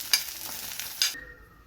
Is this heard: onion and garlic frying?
yes